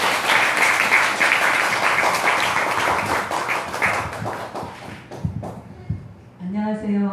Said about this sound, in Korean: 우리 큰 박수로 스님 모십시오.